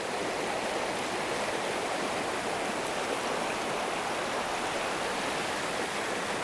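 River water rushes steadily over rocks beside a riverside stay in Srirangapatnam near Mysore. It is a continuous, even hiss of flowing water, fairly close, with no voices.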